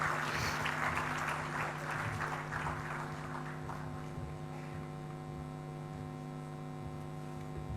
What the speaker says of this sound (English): please give a big round of applause to our special guest